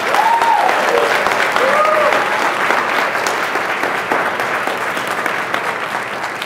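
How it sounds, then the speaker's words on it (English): Loud, sustained applause from a conference audience at a tech event, thick continuous clapping with a few cheers and whoops early on, slowly thinning toward the end. "is it too early to give a big round of applause for the organizers of this great event"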